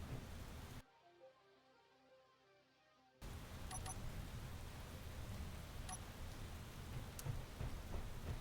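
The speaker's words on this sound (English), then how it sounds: "It's a little weird how loud the rain sound is when you're indoors." Steady rain in Space Engineers, heard from indoors, makes a loud broadband hiss that cuts out briefly near the start and then returns continuous and dense, with a few faint clicks on top.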